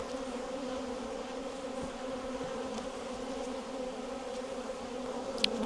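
Honey bees swarm around opened hive frames full of brood and pollen, a dense steady buzz that holds evenly throughout, with no voices over it.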